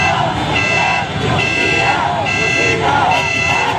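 Jeepney horns blare in steady, overlapping honks at a street rally, loud and continuous with repeated pulses and crowd noise beneath.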